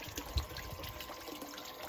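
Small garden waterfall feature in a fish pond, giving a faint, steady trickle and splash of running water that continues evenly throughout, heard quietly with no one speaking.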